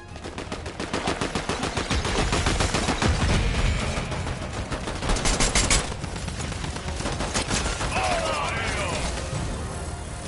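Assault rifle fire in the game Fortnite, rapid bursts of automatic shots rattling through most of the stretch, with impacts and game sounds mixed in and a player talking over it.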